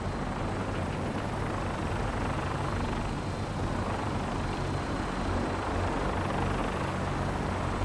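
A gunship helicopter in Fallout New Vegas flies with a steady, unbroken rotor-and-engine drone, a continuous rumbling wash that holds at an even, moderate level throughout.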